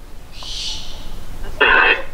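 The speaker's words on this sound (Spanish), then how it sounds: "¿Son ustedes las lechuzas?" Barn owls in a house give a long rasping hiss-screech, followed by a sharper, louder screech burst near the end, with quiet room noise between.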